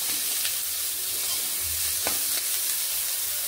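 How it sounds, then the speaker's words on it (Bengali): Onions fry in a pan with chopped green chillies for chow mein, a dense, steady hiss of sizzling oil close up, with a couple of faint spatula taps beneath it. "কয়েক সেকেন্ড লঙ্কাগুলোকে ভেজে পেঁয়াজগুলোকে দিয়ে দিচ্ছি"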